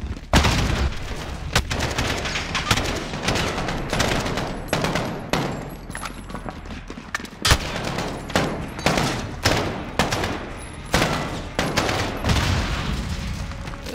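Grenade explosion with dense bursts of gunfire in the Call of Duty Modern Warfare video game, loud and continuous with rapid overlapping shots and heavy booms throughout.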